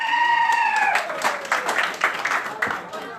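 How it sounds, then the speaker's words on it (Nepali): Applause from an audience rises as a speaker's voice fades, clapping steady and moderately close, welcoming dancer Saraswati Tamang onto a stage. "उहाँलाई जोरदार तालीले स्वागत गरौँ"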